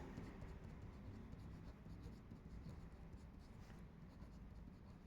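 Pen strokes scratch faintly and steadily across paper while math notes are written out, a soft continuous scribbling with no clear talk above it.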